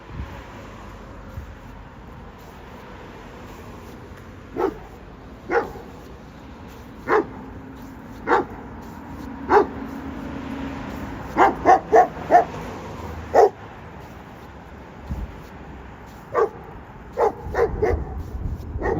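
Dogs barking outdoors in Scarborough, Toronto: sharp, separate barks repeat every second or two over steady background noise, then come faster in short clusters.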